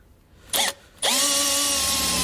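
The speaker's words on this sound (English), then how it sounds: "So we're going to drill our first hole here." Power drill boring a hole with a 1/4 inch bit while mounting an air compressor on a 2014 vehicle: a short initial whir, a pause, then a loud, sustained high whine as the bit cuts.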